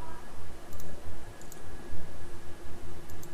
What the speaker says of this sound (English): double click the inside of image